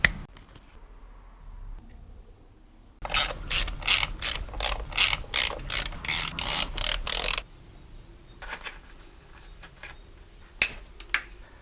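A ratchet wrench tightens the top hat nuts on a BMW E46/E39 engine valve cover, giving about a dozen quick, evenly spaced clicking bursts close up, followed by a few scattered faint clicks and taps.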